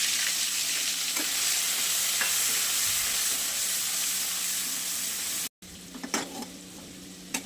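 Green chilies, garlic, mustard seeds and cumin fry in hot oil with a loud, continuous sizzle and crackle, a brief cut near the end followed by stirring clatter.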